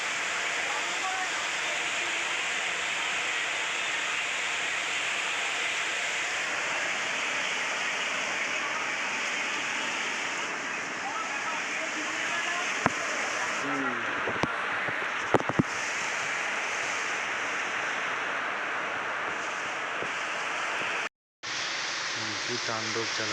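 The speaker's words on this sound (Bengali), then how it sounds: "প্রচণ্ড ঝড় আর বৃষ্টি।" A loud, unbroken wash of heavy rain and gusting storm wind at night during Cyclone Remal, with a few faint clicks and knocks partway through and a brief cut near the end.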